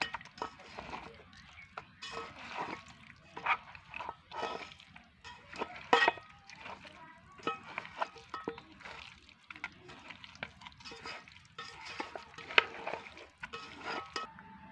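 Beef nihari meat being kneaded and mixed by hand, soft wet squelches and light clinks against a bowl in an uneven rhythm, close and quiet.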